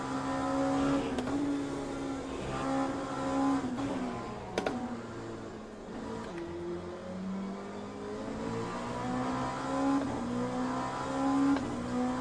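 Oreca LMP2 07 race car engine in the Le Mans Ultimate racing game, a high, droning whine that rises and falls through gear changes with a clicking keyboard-like patter over it, steady and fairly loud, no talking.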